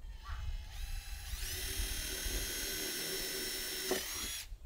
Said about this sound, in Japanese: 切った後はドリルで穴を開けるだけなんですけど